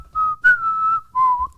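A person whistles a short phrase of the Filipino national anthem, three clear melodic notes with brief gaps, close and alone with no talking.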